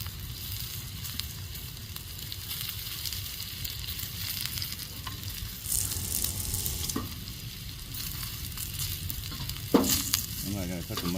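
Steady crackling sizzle of burger patties frying on a hot outdoor grill, continuous and close, with a few clicks and scrapes near the end.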